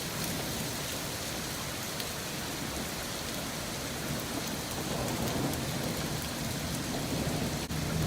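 Heavy rain falls steadily through a lightning storm, with a low rolling thunder rumble building beneath the hiss toward the end and no speech.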